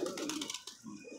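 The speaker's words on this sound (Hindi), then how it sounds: "ये कबूतर है" Soft pigeon cooing, a short throaty warble heard close by, then fading into quiet background noise.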